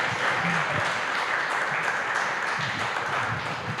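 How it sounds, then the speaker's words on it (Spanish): Sustained applause from an audience at a conversation event with a Peruvian theatre director, steady dense clapping throughout with faint voices underneath. "Un aplauso, muchísimas gracias."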